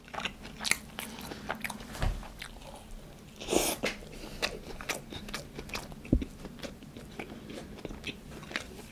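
Biting and chewing a Burger King burger at close range, with several crisp crunches and soft wet mastication sounds spread over the stretch, no talking.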